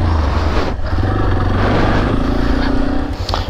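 A Yamaha Serow 250 motorcycle engine with a sticky throttle after a crash runs loud and close, holding a rough steady drone with rising and falling revs.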